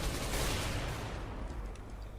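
Gunfire in Counter-Strike: Global Offensive, a dense, sustained burst of shots rattling continuously for about two seconds and tapering slightly near the end, with no voices over it.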